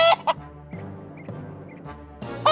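A giant's hen that lays golden eggs clucks in a castle in a storybook cartoon, giving short, soft, repeated clucks framed by a few louder bursts at the start and end, with no voices.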